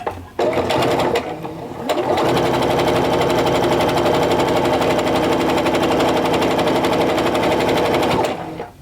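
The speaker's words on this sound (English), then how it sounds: "feed it through the sewing machine." A sewing machine runs in a steady, rapid stitching whir for several seconds as fabric is fed through, starting and stopping abruptly, with no talking.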